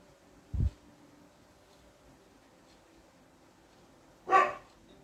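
An indoor dog barks twice, a short low bark near the start and a louder, sharper bark near the end, separated by a quiet gap with faint room sound.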